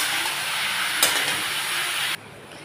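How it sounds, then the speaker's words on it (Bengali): Bottle gourd pieces tipped into a pan of frying potatoes set off a steady loud hiss and sizzle with a sharp splash of stirring, then the sizzle drops suddenly near the end. "এইবার আমি এই লাউগুলো এর মধ্যে ঢেলে দেবো, দিয়ে আমি ভালো করে নাড়াচাড়া করব"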